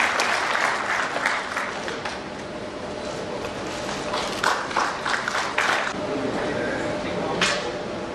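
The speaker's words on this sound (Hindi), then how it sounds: "मैं चाहूंगी कि तालियों की गड़गड़ाहट मुझे गूंजती रहे।" Sustained audience applause at a felicitation ceremony for a newly appointed Waqf Board chairperson and members, with loud, thick clapping and crowd noise that swells and eases, and voices mixed in.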